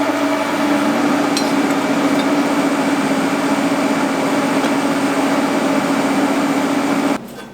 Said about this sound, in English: when I turn my welder on, it's gonna be loud.